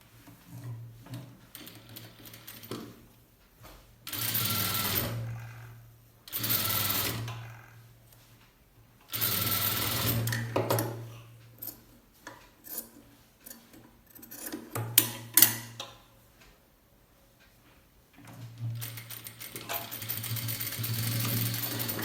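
A sewing machine stitches blouse fabric in repeated bursts of running, each lasting one to three seconds, separated by quiet pauses for repositioning, with a steady mechanical whir and no voices.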